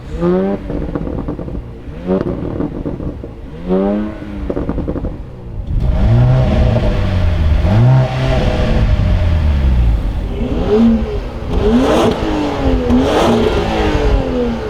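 A Mercedes-AMG GLC 43 launches from race start in a drag race, its engine revving hard and climbing through several rising gear pulls, loud and close, with shifts breaking the sweep and a rougher roar after the launch.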